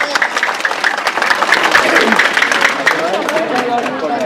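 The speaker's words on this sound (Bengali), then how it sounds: "এবার সবার জন্য একবার একটু হাততালি চাই, জোরে জোরে।" Audience at an inter-school debating competition applauds loudly, steady dense clapping filling the room throughout, with crowd murmur and voices mixed underneath.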